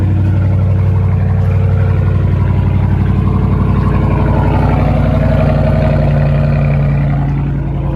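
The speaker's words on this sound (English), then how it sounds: "But god dang, this thing is loud." A Dodge Challenger R/T muscle car idles loudly nearby, its heavy, even exhaust burble steady and unbroken for several seconds with no voices over it.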